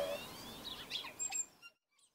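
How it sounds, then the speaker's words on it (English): A New Zealand tui calls with a few faint, thin whistled notes and chirps over a hissy outdoor background, fading out at the end. "the best facts about one of New Zealand's most iconic endemic birds, the tui"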